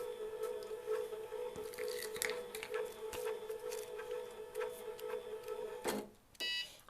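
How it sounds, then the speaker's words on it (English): A Cricut Cake fondant-cutting machine powers up and loads its mat: a steady motor hum with scattered mechanical clicks and whirs, close and moderately loud, then a short pause and a final buzzing movement near the end. "So I'm going to turn on my Cricut Cake, let it load up."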